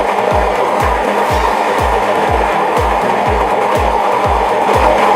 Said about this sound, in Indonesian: Setelah itu kita blender sampai halus.